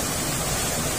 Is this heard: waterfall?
yes